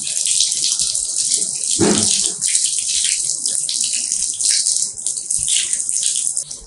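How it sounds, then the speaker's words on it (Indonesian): Tap water runs continuously while hands and forearms are washed for ablution, the stream splashing and shifting as hands move through it, with a brief low thud partway through. "Kita membasuh kedua tangan sampai dengan siku"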